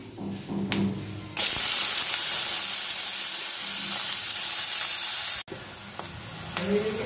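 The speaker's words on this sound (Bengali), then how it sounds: "ফোড়ন থেকে ভালো গন্ধ বেরোনোর পর এর মধ্যে আমি পেঁয়াজ কুচিটা অ্যাড করে দেব।" Chopped onion drops into hot oil seasoned with cumin, cardamom and cinnamon, setting off a sudden loud steady sizzle that holds for several seconds, with faint stirring scrapes before and after.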